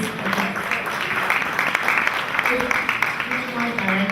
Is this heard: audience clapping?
yes